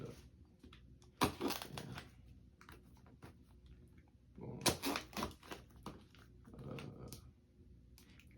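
Taped-up package box being torn and opened up close, crackling scrapes and rustles arriving in a few irregular bursts amid quiet stretches.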